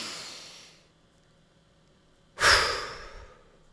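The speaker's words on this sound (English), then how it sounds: "if this is your moment, you just take a breath in." One deep human breath in, a loud close rushing inhale that fades slowly, following the tail of an earlier softer exhale and a short quiet pause.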